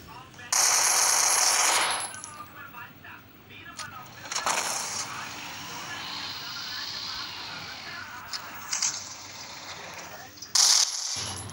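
Gunfire in a battle royale video game: a long, loud burst of rapid automatic shots, then scattered shots and a final short burst over a busy game soundscape.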